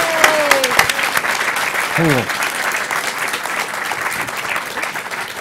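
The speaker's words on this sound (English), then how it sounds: "Round of applause" Audience applause fills a panel room at Emerald City Comic Con 2014, a steady dense clatter of many hands lasting throughout, with a few voices cheering close by over it.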